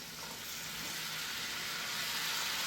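Cubed old baking potatoes hit a hot pan for spiced Indian potato and pea patties, giving a steady, loud frying sizzle that holds unbroken and swells slightly, with no talking.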